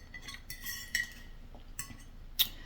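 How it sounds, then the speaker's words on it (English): Spoon clinking against a dish during a mukbang meal, a few light scattered metallic clinks close to the mic with soft handling noise between them and no talking. "I might be using my spoon. My spoon's right here."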